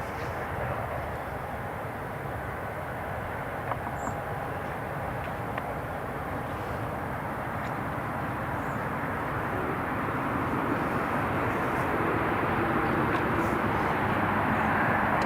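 An Italian Air Force C-27J turboprop rolls for takeoff, its engine roar broad and steady and slowly building in loudness over the whole stretch, heard from a distance with no voices.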